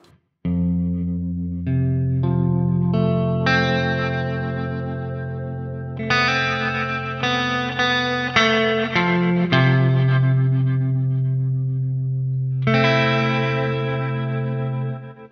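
Sustained chords with a heavily processed, distorted tone, swelling and cut off abruptly, wrapped in dense non-linear reverb feeding a plate reverb on a Strymon BigSky MX pedal, lingering and shifting between chord changes.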